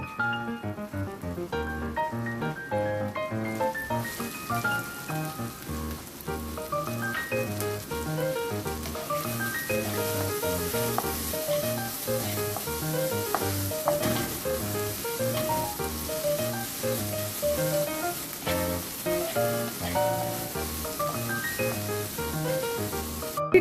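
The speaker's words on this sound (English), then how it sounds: "Now we will add chopped onions." Chopped onions sautéing in a pan over the flame for cheese masala pav, a steady hissing sizzle that runs throughout beneath prominent background music.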